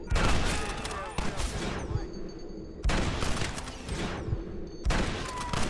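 Dense in-game gunfire from a Red Dead Redemption shootout, with repeated loud bursts and volleys crashing in waves over a sustained roar of battle, faint shouting voices mixed in.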